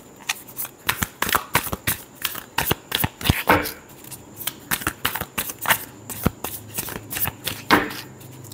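A deck of tarot cards is shuffled close up in a quick run of crisp riffling bursts and flicks, steady and rhythmic, with no talking.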